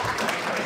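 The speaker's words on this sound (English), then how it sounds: "Give him a round of applause if you want to." An audience at a convention talk about Doom applauds, a dense wash of clapping heard briefly and close.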